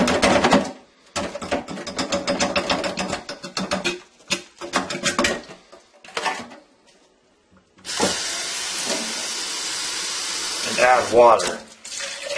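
Running water pours and splashes in bursts while making wine, with pauses between, loud and close, ending in a longer steady gush with some gurgling.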